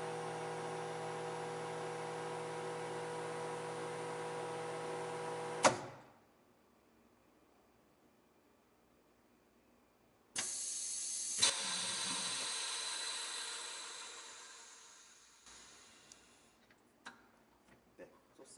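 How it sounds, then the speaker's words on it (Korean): Vacuum packing machine drawing air bubbles out of a sauce for pan-fried mackerel: a steady droning hum that stops with a click, then after a pause a hissing rush of air that slowly fades, ending in a few faint clicks. "이걸 진공 포장기로 빼줄 거예요"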